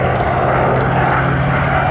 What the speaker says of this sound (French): On parlait de cet imposant moteur en double étoile, 2 fois 9 cylindres pour une puissance qui va avoisiner les 3000 chevaux.